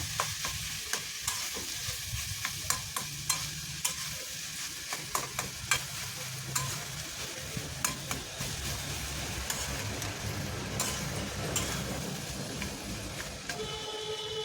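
A spoon scrapes and stirs cauliflower and potato in a pan with repeated sharp clicks against the metal, over a steady low sizzle of frying.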